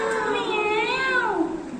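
Voices imitate a cat's meow in one drawn-out, wavering call lasting over a second. It is loud and close, rising and then trailing off at the end.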